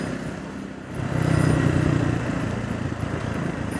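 A Triumph Scrambler 400 X motorcycle is ridden in fifth gear at moderate speed, its engine a steady, close-miked low drone that swells slightly after the first second and holds even, with wind noise around it.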